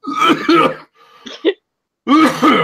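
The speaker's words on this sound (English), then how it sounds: "He coughs." A man gives two harsh coughing bursts, a short rasping throat sound between them, close and loud with brief silence in between.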